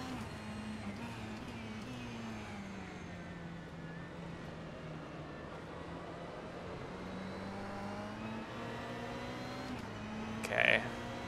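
A Ferrari 488 GT3 racing engine in rFactor 2 at Mid-Ohio Sports Car Course hums steadily at close range, its harmonic drone rising and falling gently through a corner. A short burst near the end stands out above it.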